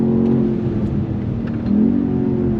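A 2025 BMW X6 M Competition with all-wheel drive launches hard, its engine giving a steady, loud, close droning roar that rises in pitch as it accelerates, with no talking.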